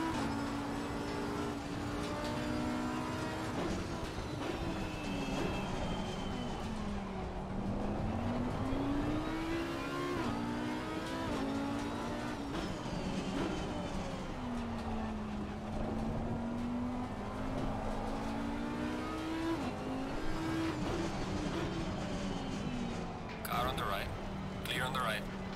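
Race car engines in a racing video game at the Hungaroring circuit whine and rise and fall in pitch through corners and gear changes, a steady engine drone under someone talking in French.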